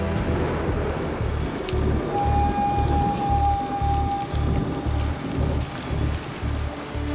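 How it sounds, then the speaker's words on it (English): Rain falling steadily on a makeshift shelter at a Survivor Australia camp, a dense continuous patter with a low rumbling undertone, loud and close throughout. "The rain is just coming down on our shelter, which is still not made."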